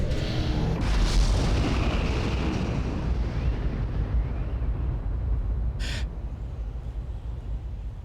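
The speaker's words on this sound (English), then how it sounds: "That's the sound of the golden dome powering up" The golden dome powering up in the video game Riven: a deep, rumbling swell builds and sustains like a low energy surge, with a brief high shimmering chime partway through, all without voices.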